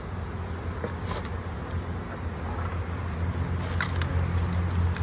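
Bees buzzing at an open hive during sampling, a constant dense hum with a few sharper bursts and rustles, close and uninterrupted by voices.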